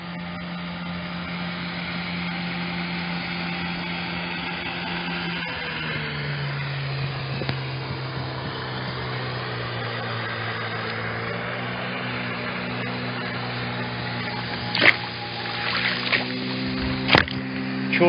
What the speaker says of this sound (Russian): Впереди что-то идет навстречу, катер или лодка с мотором.